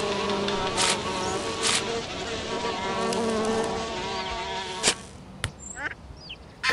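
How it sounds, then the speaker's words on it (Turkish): Steady buzzing of flies droning throughout, with a few sharp clicks and brief bursts near the end. "Burada sinekler var bir sürü."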